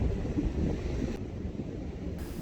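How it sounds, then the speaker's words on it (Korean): Strong wind roars across Songjeon beach with heavy surf churning underneath, a dense, continuous rumble buffeting the microphone. "바람과 파도가 심상치 않습니다."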